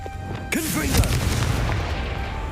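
The Confringo fiery blast spell cast in the Hogwarts Legacy video game: one loud, close, booming burst that hits suddenly and trails off into a sustained rumbling roar.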